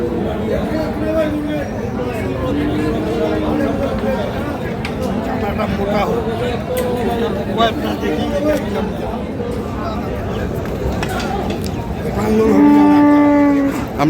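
Cattle moo at a crowded market where bulls are being sold, with several calls through the stretch and a long, loud, close bellow near the end, all over steady crowd chatter and speech.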